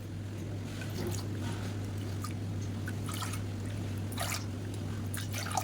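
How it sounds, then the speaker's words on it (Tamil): Water is poured from a cup into a pot while making black gram and foxtail millet porridge, a faint, steady trickle with a few brighter splashes and a constant low hum underneath. "இப்போ இதே கப்பில் ஒரு 6 கப் அளவுக்கு தண்ணி ஊற்றிக்கலாம்."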